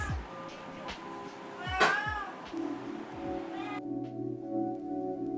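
Domestic cats meowing close by, several short cries and one louder drawn-out meow among quieter calls, with a steady low hum underneath.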